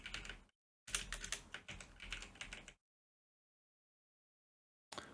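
Rapid keystrokes clatter on a computer keyboard in two short bursts of uneven typing, close and crisp, separated by silence, with a brief final tap.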